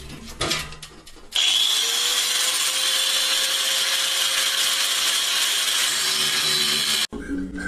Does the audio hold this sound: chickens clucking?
no